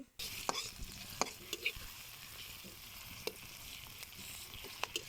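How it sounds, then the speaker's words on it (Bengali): Sliced onions and chilies frying in hot oil make a bright, continuous sizzle close by, broken by occasional spatula scrapes and clicks as they are stirred. "পেঁয়াজটাকে আমি ভালো করে ভেজে নিচ্ছি"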